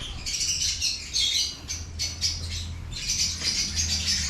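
Many caged birds in breeding cages chirping and squawking in repeated bursts, moderately loud and close, with a low hum underneath.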